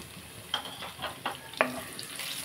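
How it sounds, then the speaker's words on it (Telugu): Crushed garlic frying in hot oil for a gongura dish, a soft steady sizzle with a few sharp stirring scrapes and crackles, fairly quiet and close, with no one talking. "బాగా ఇది ఫ్రై చేసుకుందామండి"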